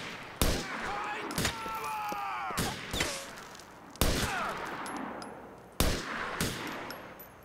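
Gunfire in Grand Theft Auto IV rings out as several sharp, separated shots and short bursts, each with a trailing echo, while a voice speaks between them.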